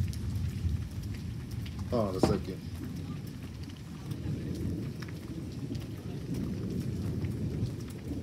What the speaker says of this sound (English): We still have storms coming through.